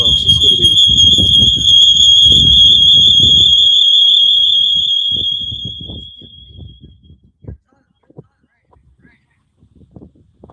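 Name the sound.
alarm beeping during first wood stove burn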